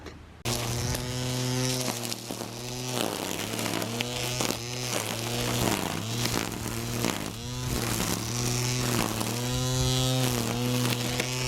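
A Worx 40V Max cordless string trimmer cutting grass gives a steady, close, high buzzing whine that rises and dips slightly as the line hits grass, with no talking.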